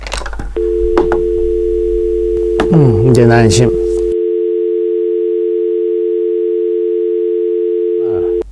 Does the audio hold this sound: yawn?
no